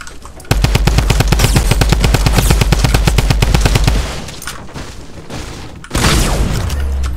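Rapid automatic gunfire from a gun in Fortnite, a loud close burst of evenly spaced shots lasting several seconds, then a pause and another heavy blast.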